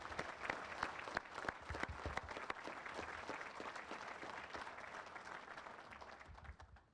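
A large audience applauds at a Winston-Salem basic law enforcement training class graduation ceremony. The dense, sustained clapping carries on for several seconds, then tapers off at the end.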